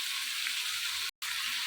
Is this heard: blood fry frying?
yes